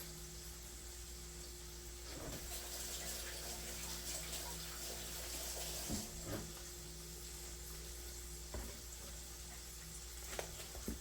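Tap water runs steadily over vegetables at a kitchen sink, a soft continuous hiss and splash with a few brief louder knocks, no talking.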